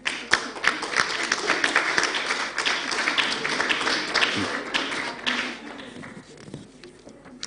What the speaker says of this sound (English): I will cue when you need to give a very resounding round of applause